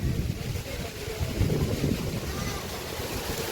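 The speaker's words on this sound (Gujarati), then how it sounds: "પવન એટલે જબરજસ્ત પવન છે અત્યારે." Strong wind blows at the Gopi lake ghat in Dwarka, a loud, constant roar buffeting the microphone with no breaks throughout.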